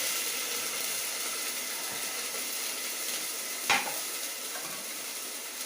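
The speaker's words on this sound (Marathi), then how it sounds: "ती अशी फोडणी दिली ना तुपातली" Cumin, asafoetida and curry leaves tempered in hot ghee for varan, sizzling in a steady close hiss with one brief sharper crackle partway through; no talking.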